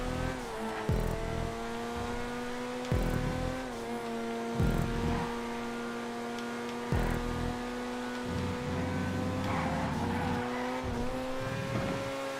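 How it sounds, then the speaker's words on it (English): A race car engine drones steadily along a track in GTA 5, with a sustained humming tone and periodic shifts or bumps every couple of seconds, close and continuous. "Just a race car seems to fly away on some of these straights."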